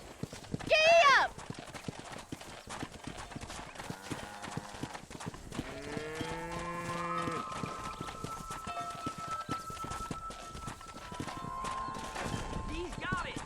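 A horse gallops in Red Dead Redemption, its rapid clip-clop hoofbeats running steadily under game music and a brief shouted voice, with short bursts of speech and a neigh-like cry early on.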